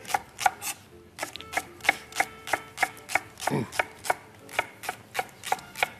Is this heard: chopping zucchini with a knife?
yes